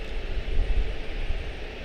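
An American Boeing 777-223ER, a 24-year-old airframe, departing Charlotte for Frankfurt, a distant low engine rumble that swells and fades faintly, heard alone.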